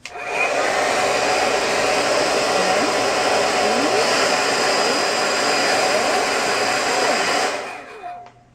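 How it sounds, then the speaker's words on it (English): A hair dryer blows with a loud, steady whir for about seven seconds, then switches off and winds down. "Hairdryer seems to be temperamental today."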